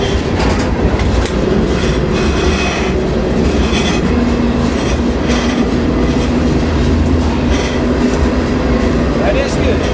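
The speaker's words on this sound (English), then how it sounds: "I'm pretty sure this is the right train." Loud, continuous rumble of a passing freight train with rhythmic clickety-clack of wheels on rails and occasional metallic squeal, heard close by.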